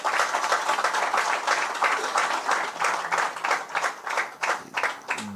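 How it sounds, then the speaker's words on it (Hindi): An audience at a BJP professionals' gathering claps in a steady, moderately loud burst of applause that rises and falls in waves, with no one talking over it. "ताली वाली बजाओ इस बात पे।"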